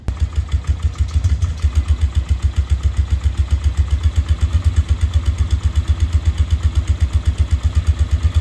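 A Polaris quad ATV engine runs after a carburetor clean with a loud, steady, rapid chugging idle, close by and continuous with no talk.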